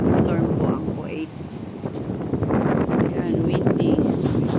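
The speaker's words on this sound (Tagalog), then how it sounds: "Sobrang lakas ng hangin." Strong wind during a dust storm in Kuwait roars and buffets the microphone outdoors in a continuous gusty rush, with a voice speaking faintly under it.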